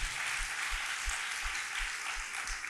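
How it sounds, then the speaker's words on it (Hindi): Congregation clapping hands during a Sunday church prayer service, a broad, steady wash of clapping with faint low rhythmic thumps underneath, moderately distant. "ताली बजाओ, परमेश्वर को धन्यवाद दीजिए"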